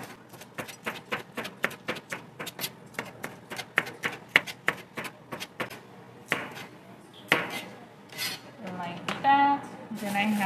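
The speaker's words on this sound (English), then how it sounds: "I also have these green peppers that I'm going to just slice like in rounds." A knife slices green peppers into rounds on a cutting board, a quick run of evenly spaced close taps that slows into scattered knocks, with a voice briefly audible near the end.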